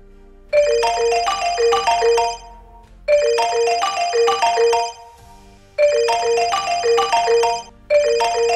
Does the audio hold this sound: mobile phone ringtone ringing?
yes